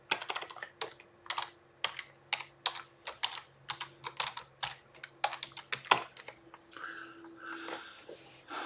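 A password is typed on a computer keyboard, a close run of quick key clicks in uneven bursts, tapering into softer scattered taps toward the end, with no talking.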